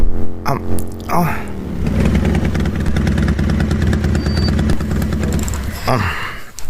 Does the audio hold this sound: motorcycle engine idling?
yes